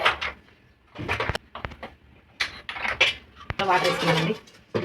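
Steel idli pots and dishes clank and clatter in a home kitchen while ragi batter is set into the idli vessel, a series of sharp metallic knocks and scrapes with a voice talking in between.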